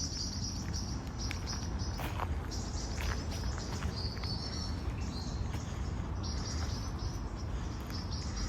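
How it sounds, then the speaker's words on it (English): A blackbird sings outdoors beside the Trent and Mersey canal on a last walk of the day, its short bright phrases coming and going over a constant hiss of insects and ambient noise. "you can hear a blackbird in the background"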